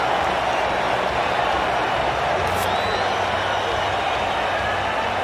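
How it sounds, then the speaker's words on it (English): Excited cricket crowd in the video game Cricket 19 keeps up a dense, loud, even roar of cheering and noise throughout, with no break. "It's going to be hard for the bowler to focus with the crowd this excited."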